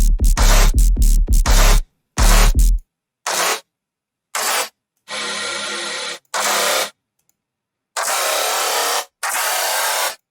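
Synth sub patch and distorted bass layers from a horror tearout track, played as a string of separate loud bursts of growling, noisy bass, some short and choppy, others held for about a second, with silent gaps between them.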